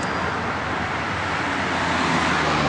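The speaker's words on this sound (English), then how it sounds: "Cars are coming in." Steady traffic rumble of cars moving along an internal road in Sharjah, a continuous broadband wash of engine and tire noise with no distinct pass-by peaks, fairly close and without speech.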